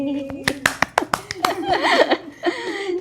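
A few people clap in short, uneven bursts amid laughter and lively chatter close by during an Onam talk session.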